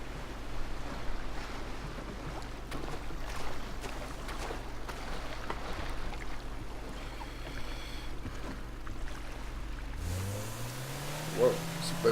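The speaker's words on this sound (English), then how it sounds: "Whoa, this boat sounds really nice." Boat engine in the GTA 5 video game, a steady low drone running under faint water and wind, with a rising engine pitch sweep near the end and a voice speaking briefly.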